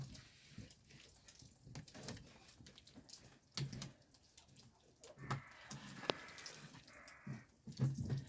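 Faint water dripping and trickling softly in short irregular drops from the holes of a pot of transplanted tomato seedlings, close by, in a quiet room.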